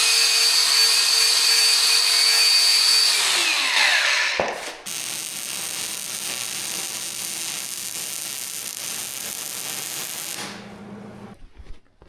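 Steady, loud crackling hiss of arc welding on a steel rack frame in a workshop, running continuously with a brief break partway through before stopping.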